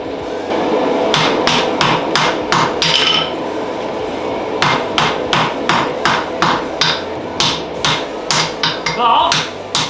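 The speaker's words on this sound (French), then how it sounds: "Un petit marteau, paf, pour faire sortir les inclusions." A small hammer strikes a forge-welded seax billet in quick clustered bursts of sharp metallic blows, each group separated by short pauses, close and loud over a steady background roar.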